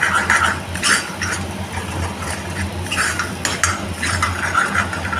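A spoon stirs curry leaf kuzhambu in a pan of oil, scraping and clinking against the metal in steady repeated strokes with a soft sizzle underneath and no voices.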